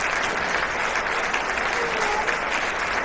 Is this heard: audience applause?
yes